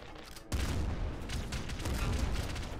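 Super Director Slugger firing in the Nuclear Throne Ultra Mod video game, a dense rapid barrage of shotgun-like blasts that starts abruptly and keeps pounding steadily, loud and continuous.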